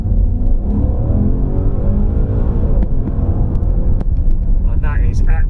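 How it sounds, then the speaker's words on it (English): A Maserati Levante Trofeo V8 SUV in its sportier drive mode rumbles past with a deep engine note that swells and fades, while someone talks over it and a brief whir rises near the end. "stick it in coarser mode first of all, just livens up that V8, and wait for this car to pass and we shall listen to it sing"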